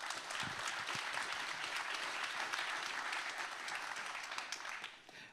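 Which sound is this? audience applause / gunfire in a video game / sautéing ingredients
audience applause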